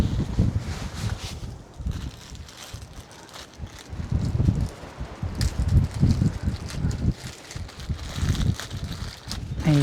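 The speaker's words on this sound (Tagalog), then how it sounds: "Ang lakas ng hangin paghapon." Steady gusting wind buffets the microphone, with low rumbling surges and rustling that rise and fall throughout.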